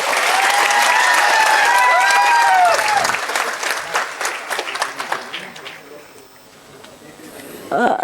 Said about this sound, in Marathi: या माणसासाठी एकदा जोरात टाळ्या वाजवा बरं